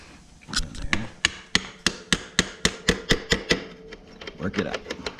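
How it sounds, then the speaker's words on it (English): A small hammer taps on an ATV drive chain during a repair, with a steady run of about a dozen sharp metallic knocks in a regular rhythm, close to the microphone, followed by a few softer, quicker taps. "Get us a little hammer."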